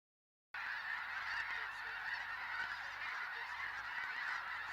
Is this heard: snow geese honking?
yes